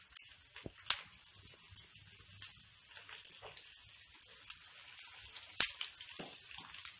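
Finely chopped green chillies frying in hot ghee, a light steady sizzle scattered with sharp crackles and pops, nearby and fairly quiet.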